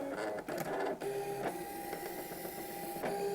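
Silhouette Portrait cutting machine checks its blade, giving a steady mechanical whir with small clicks and motor shifts, close but quiet, with no talking.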